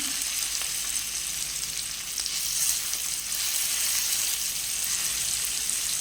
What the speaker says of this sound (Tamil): இப்போ வந்துட்டு எண்ணெய் சூடாகிடுச்சு. நம்ம ஒரு ப்ரான்ஸை ஆட் பண்ணிக்கலாம்.